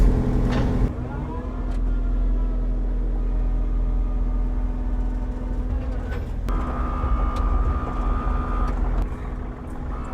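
A diesel excavator with a thumb attachment at a sawmill starts up and settles into a loud, steady idling rumble; partway through a higher whine rises over the engine and holds for a couple of seconds.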